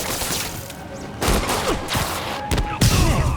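Gunfire in the PS5 game Marvel's Spider-Man: a loud, dense volley of shots over busy action sounds, with heavier bursts and thumps cutting in around the middle and near the end.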